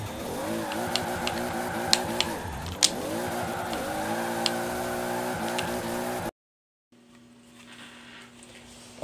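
A heavily built 1100hp Supra drifting in Forza Horizon 4, its engine roaring in rising and falling revs with tire squeal for about six seconds before cutting off to quiet game ambience.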